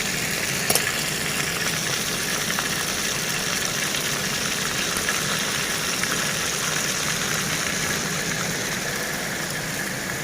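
Salted fish, ikan asin japuh, frying in a pan outdoors by rice fields, a steady dense sizzle and crackle that continues loud and unbroken throughout, with no talking.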